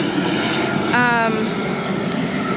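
A steady loud roar of an airplane engine passing overhead near an airport, with a brief voice cutting in near the middle.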